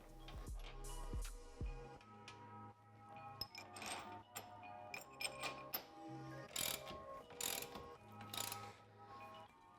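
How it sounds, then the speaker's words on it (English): A 17mm socket wrench tightens bolts on a Polaris General 4 1000 UTV, giving a string of quick ratcheting clicks and metallic clinks in short bursts, close up and fairly quiet. "Then we can use our 17mm socket to tighten these down."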